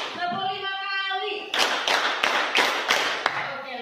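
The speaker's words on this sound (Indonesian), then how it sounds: "Tepuk 1 kali. Tepuk 2 kali. Tepuk 3 kali. Tepuk 5 kali." A high-school class claps in counted bursts, a series of sharp group claps in an uneven rhythm, preceded by a brief voice.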